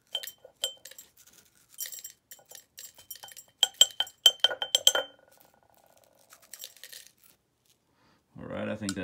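A small snowflake obsidian stone clinks and rattles against a glass oil bottle in a run of bright, sharp taps and chimes, irregular and close. A low voice murmurs briefly at the end.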